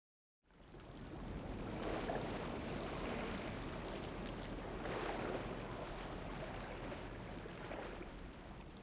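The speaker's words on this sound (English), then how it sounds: "Listening to the ocean might help us fall asleep." Ocean waves in the video game Love and Deepspace wash in a continuous soft surf roar mixed with wind, steady and alone after a brief silent start.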